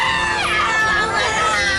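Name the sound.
woman screaming and crying at a road crash scene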